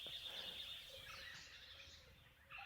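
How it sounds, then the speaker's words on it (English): Faint birdsong carries through a quiet outdoor setting in Bandhavgarh National Park, India, on a tiger safari, with thin whistled notes and soft chirps blending over a low, steady ambient hum. "beautiful sounds of birds"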